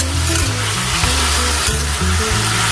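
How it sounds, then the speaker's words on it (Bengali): Fried lentil dumplings added to a thin, sizzling ridge gourd curry with green chillies, a loud continuous sizzle and stirring close by, with music playing underneath. "এর মধ্যে দিয়ে দিচ্ছি ভাজা বড়িগুলো,"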